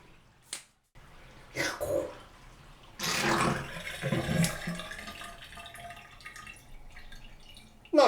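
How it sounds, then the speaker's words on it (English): Water drains from a newly installed bathroom vanity sink, a hollow gurgling swirl with brief drips and a sucking rush near the end, heard close up with no talking. "Let's drain it. Is it going to swirl?"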